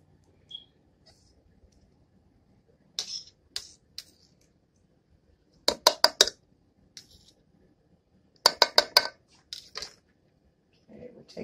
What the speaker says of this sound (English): we're taking our spoon. We're going to stir this up